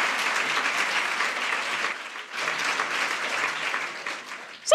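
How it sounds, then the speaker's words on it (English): A crowd claps steadily throughout, with a brief dip in the middle before the applause swells again. "Round of applause yourselves."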